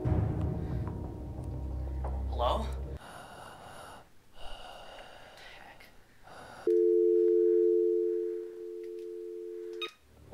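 After a 911 call is dialed, a steady telephone busy signal sounds as a loud, repeating electronic tone, following heavy breathing and rustling.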